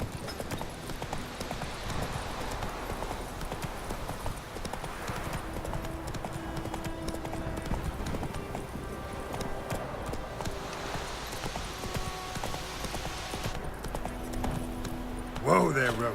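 Roach the horse gallops in The Witcher 3, a steady rhythmic clatter of hooves running throughout, with voices and game sounds over it and a brief louder burst near the end.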